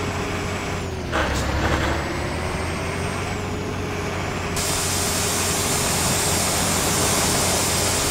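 A Scania 113h truck in a driving video game drones steadily under a dense, continuous engine and road roar, with a shift in pitch partway through and no talking.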